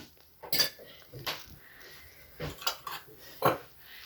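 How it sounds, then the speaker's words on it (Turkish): Sauce being stirred in a bowl for oven-baked chicken, with a handful of sharp utensil clinks and scrapes against the bowl spaced through quiet moments, close and fairly soft. "Sosumuzu iyice karıştırıyoruz."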